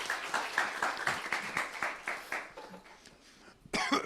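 Audience applause at a talk, a steady wash of clapping hands for about two and a half seconds that thins out toward the end, with a louder burst of noise at the close.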